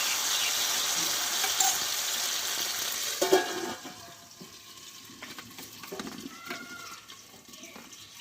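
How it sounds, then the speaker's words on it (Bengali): Raw potato omelette sizzling as it fries in a pan, a steady hiss through the first three seconds that then drops to a quieter, intermittent crackle with occasional light scraping. "দেখো সব অমলেটগুলো একই প্রসেসে আমি ভেজে নেব"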